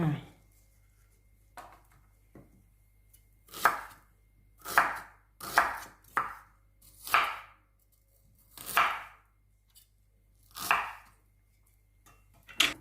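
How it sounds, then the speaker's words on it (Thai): A knife chops umbrella mushrooms on a board, about nine crisp, separate cuts at uneven intervals, close and clear against a quiet background. "หั่นประมาณนี้เลยจ้า"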